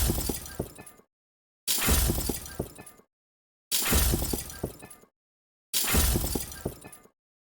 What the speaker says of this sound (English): almost like it sounds a little bit more like ice or glass breaking in that first part of the range